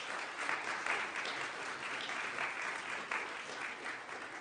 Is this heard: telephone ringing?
no